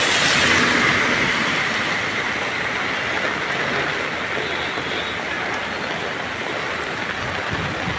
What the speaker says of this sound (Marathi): अतिशय सुंदर पाऊस बरसून राहिला आहे.